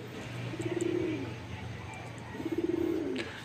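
Pigeons cooing nearby in a home loft, two clear rolling coo phrases separated by a short pause over a low steady background hum.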